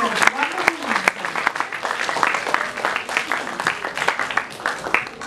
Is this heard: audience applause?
yes